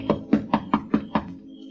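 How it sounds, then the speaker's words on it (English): Six evenly spaced, firm knocks on a front door in a radio drama, close and crisp against an otherwise quiet background, with a brief silence after the last rap. "walks up to the front door and knocks"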